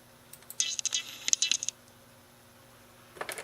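A small metal pin drops out of a utility knife and lands with a quick cluster of light, bright clicks and a short jingle, then goes quiet, with a few faint ticks near the end.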